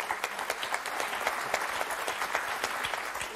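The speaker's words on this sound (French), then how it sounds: "on va les applaudir quand même" Applause from the studio audience of the French game show Motus for two contestants, a steady bed of many hands clapping with sharp individual claps, fairly faint and without talk.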